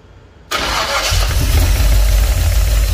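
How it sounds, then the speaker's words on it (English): Engine of a 1967 Chevrolet C10 truck cranking and catching abruptly, then running at a rough, loud idle close by, started for the first time in years. "we got everything unhooked and ready to try and fire the engine"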